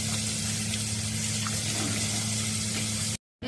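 Tap water runs in a steady, unbroken rush while a face is rinsed after soaping, close and alone with no talking, then cuts off abruptly near the end.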